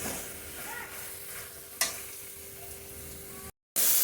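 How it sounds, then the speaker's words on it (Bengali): Banana flower sautéed with spices and three green chillies in a pan gives a steady, close sizzle with soft stirring scrapes and one sharper clack, then a brief drop to silence. "মোচাটাকে কষিয়ে নিচ্ছি মশলাটার সাথে"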